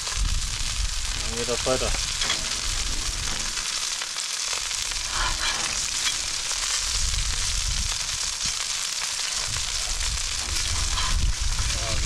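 Iberico pork frying in oil in a pan, a steady loud sizzle and crackle that runs throughout while a person talks over it.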